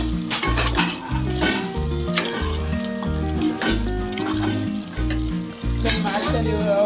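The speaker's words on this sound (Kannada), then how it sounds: "ಇವಾಗ ನಾನು ಮೊಸರು ಹಾಕೊಳ್ತಾ ಇದ್ದೀನಿ." Yogurt going into a hot pan of chicken biryani masala, producing a loud sizzle and bubbling under strong rhythmic background music, with pan noises mixed in.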